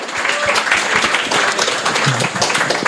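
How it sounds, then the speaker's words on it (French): A live podcast audience gives a short round of applause, with busy, uneven clapping mixed with a little chatter throughout. "On l'applaudit"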